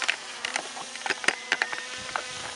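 A bee buzzes close around a person flying a Traxxas Aton drone outdoors, its brief whirring passes coming and going in short bursts at moderate loudness, with no talking.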